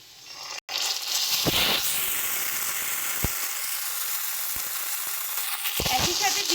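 Onions fry in hot oil as gadal leaves and green chili paste go into the pan, a loud steady sizzle with a few sharp clicks of a stirring spoon against the pan.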